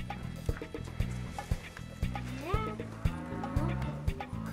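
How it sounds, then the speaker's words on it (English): Cattle moo several times inside a barn where an old Volkswagen single-cab pickup sits, long low calls rising and falling at moderate distance, with intermittent thumps and rustling between them. "Cows think we're here to feed them."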